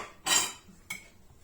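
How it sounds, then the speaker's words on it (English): Pots and cutlery being washed give two quick metallic clinks and clatters, the first louder and the second shorter, close by with no talking. "I love washing the pots"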